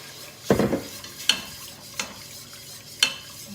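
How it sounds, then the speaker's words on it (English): A whisk beats milk into a sauce for slow-cooked beef lasagne in a pan, giving four separate scraping strokes, the first longest and loudest, with quieter ones spaced irregularly after it. No one speaks. "And keep whisking it so you don't get lumps."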